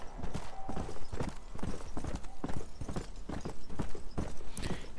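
Horse hooves clip-clopping at a steady trotting rhythm in the zombie western video game Undead Nightmare, set around Blackwater, with repeated close, sharp impacts throughout and no talk.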